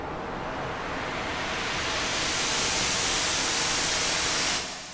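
A white noise burst sweeps upward through a filter, swelling steadily brighter and louder over about four seconds with a reverb wash, then drops away sharply near the end.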